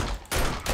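Pistol fire in the survival game 7 Days To Die, two loud close shots in quick succession, each with a sharp onset and brief ringing tail.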